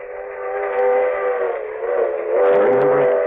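In an old radio drama, a train whistle blows as a loud, sustained, wavering blast for several seconds over the rumble of the rails, with no voices.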